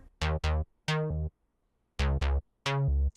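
A synth bass plays short, punchy notes in a bouncing rhythm, loud and close, with brief gaps between phrases.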